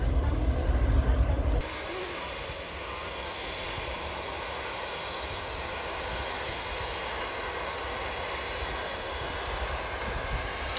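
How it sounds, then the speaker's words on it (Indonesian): A Lion Air airliner's jet engines run at the end of the runway as it prepares for takeoff at Sultan Hasanuddin airport in Makassar, a steady broadband roar heard from a distance, louder for the first two seconds and then holding at a lower level. "Disusul ini ada Lion Air lagi mau take off"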